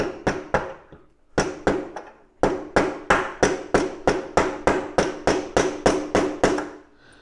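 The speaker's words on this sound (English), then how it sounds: "try to shoot that in the rest of the way with this socket this time" A fork tube being hammered into place with a socket while fitting an adjustable inverted front suspension: about twenty sharp, ringing metallic blows in steady bursts, close and loud, with brief pauses between runs.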